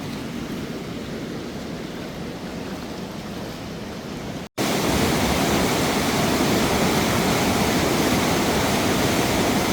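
Constant roar of rushing floodwater at a washout along a railway line; after a brief cut it becomes much louder and fuller, a powerful broadband torrent with no voices.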